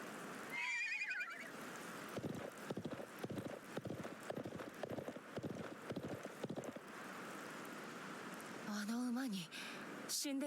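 A horse in the video game Live A Live whinnies shrilly, then a steady run of galloping hoofbeats follows, and a second neigh rises near the end; a voice talks over part of it.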